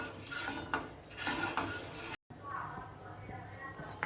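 Halwa stirred continuously in a pan over a low flame, with repeated close scraping and thick sloshing strokes, broken by a brief silent cut midway. A voice speaks during the stirring.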